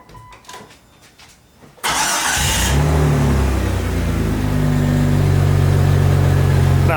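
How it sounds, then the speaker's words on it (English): A one-ton-swapped Jeep Cherokee XJ with an exhaust leak at the downpipe flange starts up after a quiet moment, then revs hard and settles into a loud, close, raspy drone. "definitely got an exhaust leak there"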